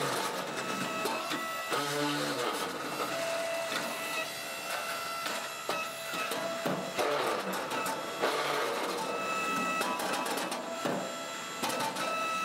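Large movable egg-laying concrete block making machine feeding material, vibrating and demolding hollow blocks, a loud dense mechanical clatter with repeated thumps and a steady rattling hum, with no talking.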